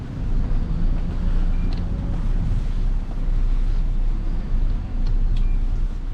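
Princess Y85 superyacht engines and thrusters manoeuvring: a steady low rumble with wind buffeting the microphone, continuous and fairly loud, with faint higher clicks now and then.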